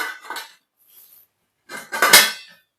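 Lemon rice pulihora is mixed in a metal pot, producing two bursts of clattering, scraping utensil-on-metal sounds up close, separated by a near-silent pause, with no talking.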